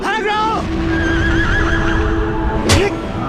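A horse whinnies in a video game with a wavering, descending cry at the start, followed by a sustained tonal call, over a steady rumbling background and a sharp burst near the end.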